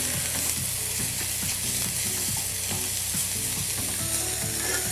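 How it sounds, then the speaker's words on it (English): Meatballs frying in oil in a pan: a steady, dense sizzle and crackle fills the whole clip, loud and close, with faint clinks of stirring underneath and no voices. "turn the heat on the pan down slightly and continue cooking until you get that beautiful, even golden crust"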